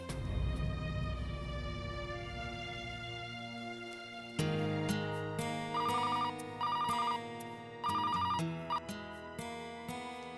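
An electronic phone ringtone chirps in repeated bursts after a few seconds of soft melodic tones, fairly clear with no talking over it.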